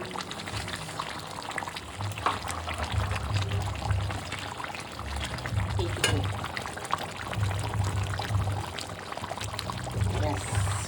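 Water is poured into a pan of chicken being cooked, making a steady trickling, bubbling pour heard up close while a person talks over it.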